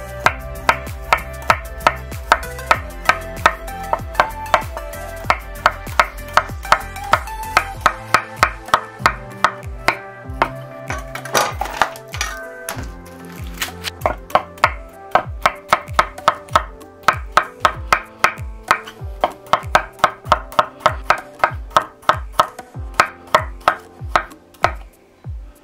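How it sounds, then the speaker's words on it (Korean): A knife slices sausage on the bias against a cutting board, a long run of sharp, evenly spaced chops with steady rhythm, close and clear, with no voices. "어슷썰기로 썰어줍니다."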